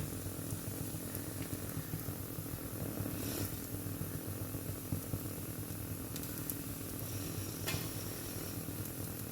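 Grated carrot dropped into vegetables frying in a pan for a Kerala-style vegetable dosa, giving a steady, soft sizzle with faint stirring scrapes and no voices.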